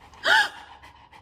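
One quick, loud, close gasp of inhaled breath from a person directed at a dog, followed by soft breathy traces and low room hum.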